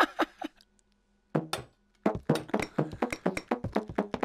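Rubber band gun firing tacks in the VR game Gun Club VR: a quick string of sharp clicky taps and thunks, a few near-together shots, then a pause, then a longer, faster run of repeated shots close up.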